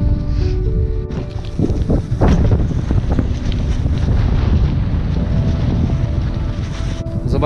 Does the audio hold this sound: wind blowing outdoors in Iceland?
yes